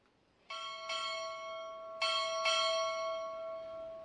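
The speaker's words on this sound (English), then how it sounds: "Time orderly, strike 4 bells." A ship's bell rings four times in two quick pairs at a U.S. Navy Recruit Training Command boot camp graduation. The strikes are clear and resonant and ring on between pairs, with no voices.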